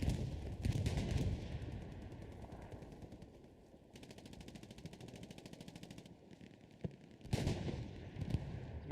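Sustained automatic gunfire rattles in the Hell Let Loose video game, with long rapid machine-gun bursts broken by short pauses and a few sharper single shots, heard at moderate distance without talk.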